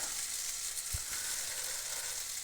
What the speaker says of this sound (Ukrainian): Смажимо яловичину.